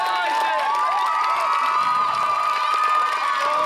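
Classmates cheering on runners at a school race: a dense crowd of young voices shouting and whooping together, loud and sustained throughout.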